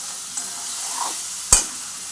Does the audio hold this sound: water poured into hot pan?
yes